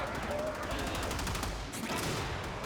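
Enemy gunfire in the video game Warframe, a steady run of rapid shots crackling throughout, fairly dense and continuous at moderate level.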